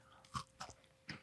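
Crunchy caramel candy bitten and chewed up close, with three short crisp crunches spaced across a brief, quiet moment and no talking.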